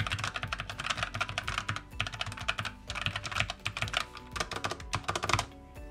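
Typing on a Logitech MX Mechanical keyboard fitted with brown tactile quiet switches: rapid, dense runs of crisp close keystrokes with brief pauses, clearly audible and fairly clacky, with no voices.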